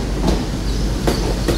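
A passenger train, unit 802-103, runs along the rails on Christmas Eve, with a steady interior rumble and periodic wheel clicks over rail joints, heard from onboard with no talking.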